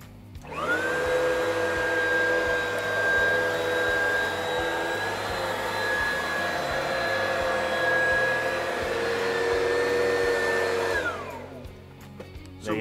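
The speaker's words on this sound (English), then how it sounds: "what we're gonna do is vacuum up this dry powder" A vacuum cleaner runs steadily, loud and close, as it sucks dry encapsulation powder from carpet after an Oreck commercial orbiter floor machine, whining up at the start and winding down near the end.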